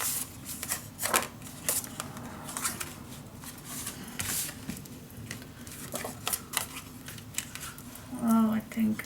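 Sheets of patterned design paper for a handmade scrapbook mini album are shuffled and handled close by, giving soft repeated rustles and slides, with someone talking throughout.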